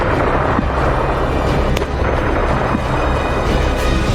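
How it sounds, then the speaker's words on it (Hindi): Explosions and heavy blasts in Ukraine war combat near Mariupol, a dense barrage of booming impacts and sharp cracks layered over a constant rumble, loud and continuous throughout. "ये धमाके याद कीजिए"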